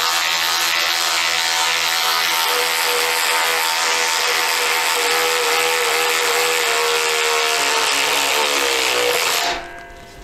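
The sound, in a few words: Ryobi cordless ratchet wrench driving a 10 mm lag screw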